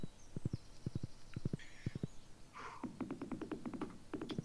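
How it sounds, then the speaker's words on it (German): Horse hooves clip-clop in the Stardew Valley farming game, a steady series of clustered clopping beats with a brief whinny-like tone in the middle, faster hoofbeats toward the end over soft background music. "Vor Robins steht ein Pferd. Hier links steht noch ein Pferd."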